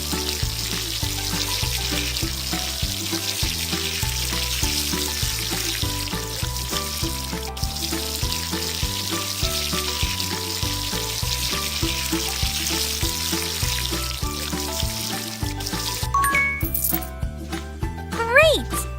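A cartoonish water-spray effect rinses a girl's hair in a children's hair-washing game, a steady hissing shower running under bouncy game music, ending with a few bright chimes.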